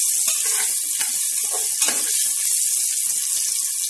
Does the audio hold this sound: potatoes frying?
yes